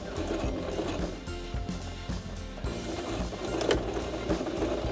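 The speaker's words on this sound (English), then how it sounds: "And then I'm going to back stitch as far as this machine will let me." Sewing machine stitching and back-stitching a curtain pleat, a steady close mechanical whirr with rapid needle clatter running continuously without a break.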